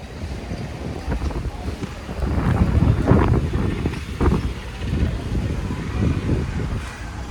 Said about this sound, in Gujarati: પણ પવન વધારે છે મિત્રો